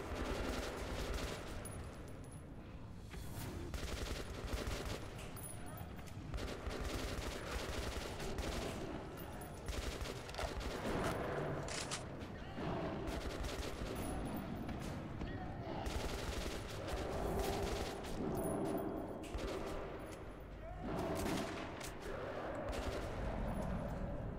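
Repeated gunfire in the video game Metro 2033, bursts of rapid shots and scattered single cracks over about twenty-four seconds, loud and dense with a few short lulls, mixed with other game sounds.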